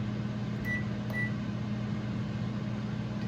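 Microwave oven running on high, a steady close hum and whir with a constant low drone, two faint short tones early on.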